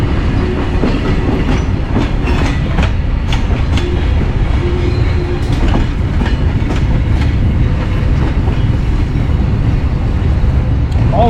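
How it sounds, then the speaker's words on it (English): A train in Albania between Durrës and Tirana rolls very slowly on the rails with continuous rumbling and faint rhythmic clacking, loud and close throughout. "the train's moving very, very slowly"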